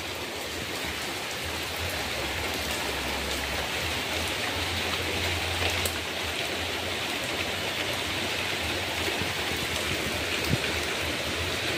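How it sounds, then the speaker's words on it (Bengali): Heavy rain pours down in a village, a dense, constant hiss of drops striking surfaces, steady and fairly close with a faint low rumble underneath and no voices. "ঝমঝমিয়ে বৃষ্টি শুরু হয়ে গেল।"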